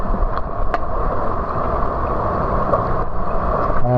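Strong gusty wind near a bridge roars loudly and steadily into the microphone, a dense rumbling buffet with brief surges, no voices heard.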